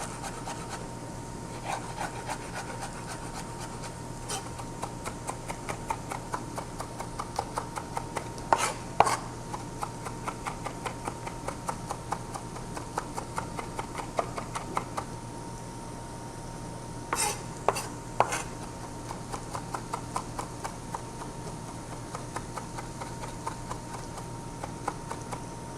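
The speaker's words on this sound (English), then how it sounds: "I find my knife works just fine for the garlic. Give it a good mince." A kitchen knife mincing garlic on a cutting board: a steady stream of quick, close taps and scraping rubs with occasional sharper knocks, running evenly and alone without talk.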